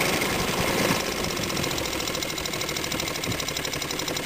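A 1971 Evinrude Mate 2 hp outboard motor idling on a boat, a steady close-up putter with a fast, even knocking pulse and constant drone throughout.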